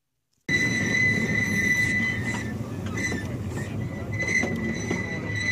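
Train at a vintage engine show at Buckley in 2016, heard as a continuous rumbling roll with steady high metallic squealing tones from the wheels, close and fairly loud after a brief silence.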